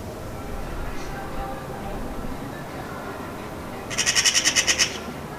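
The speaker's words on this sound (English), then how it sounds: "The magpie sounds motivate the pigeon to leave." Magpies give a rapid burst of about eight harsh, chattering calls near the end, loud against a steady outdoor background hum.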